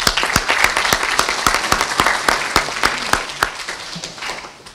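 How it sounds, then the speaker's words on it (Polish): An audience at a talk gives a short round of applause, sharp individual claps pattering close and loud before tapering off toward the end. "za co Jacku wielkie brawa."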